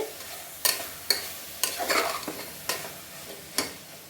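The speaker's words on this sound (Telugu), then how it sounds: "వీటిని మొత్తాన్ని వేసేస్తాను కొద్దిసేపు వేపుకుందాము" Potato pieces fry in masala in a pan, a soft continuous sizzle broken by about six sharp scraping stirs of a spoon against the pan, close and fairly quiet.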